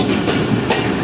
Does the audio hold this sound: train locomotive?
yes